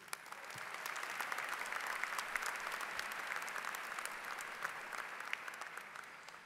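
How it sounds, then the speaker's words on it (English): Steady applause from the audience at a university commencement ceremony for graduates, many hands clapping evenly at moderate distance for several seconds. "So a round of applause, please."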